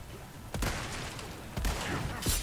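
Gunshots in Resident Evil 4 Separate Ways: two sharp, loud cracks about a second apart over a hissing game backdrop, with a third brighter burst at the very end.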